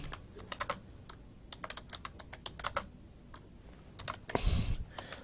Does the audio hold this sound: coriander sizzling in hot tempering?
no